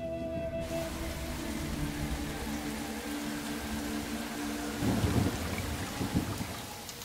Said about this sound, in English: tropical monsoons that sweep along the far north coast, bringing torrential rain